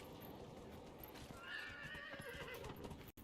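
A horse whinnies clearly in the middle of a Dragon Age: Inquisition game scene, with soft clip-clopping hooves and faint ambient noise around it; no talking.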